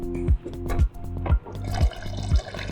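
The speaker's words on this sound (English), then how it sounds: "so I'm gonna add more water" Water is poured into a pot of cooking red lentils seasoned with salt and coriander, making soft, close splashing and gurgling in a few uneven pulses over low background noise.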